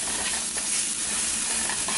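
Ackee dish crackling and sizzling in a hot pan as it is stirred and left to crisp, a steady close hiss of frying with light scraping, no voices.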